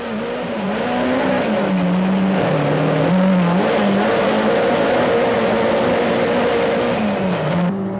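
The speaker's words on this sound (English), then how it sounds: "Just how hard they work is clearly shown in this great in-car shot of Cassie Coetzee's cockpit." Race car engine in a 1997 Super Series race, captured from the cockpit, droning loud and steady for the whole stretch with the pitch rising and dipping through gear changes and throttle lifts.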